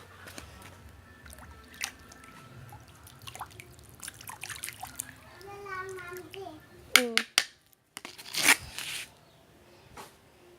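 Water splashing and dripping during a brief wash, scattered trickles and drips, then a louder burst of splashing near the end, with a child and an adult talking in the background.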